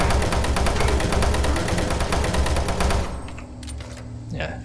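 Rapid automatic SMG fire in DOOM 3, a dense sustained burst of shots poured into an imp, loud and continuous for about three seconds before cutting off to quieter game ambience.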